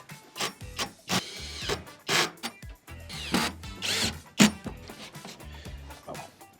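Power screwdriver driving screws into exterior siding boards, working from the center of each board outward: a series of short whirring bursts with clicks and knocks between them, close and fairly loud, with no talk.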